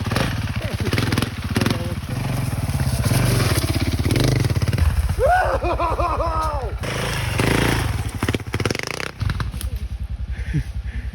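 An enduro motorcycle rides off-road with a learner aboard, its engine revving loudly and continuously throughout, with rising and falling pitch sweeps in the middle as the throttle opens and closes, and a voice speaks briefly over it.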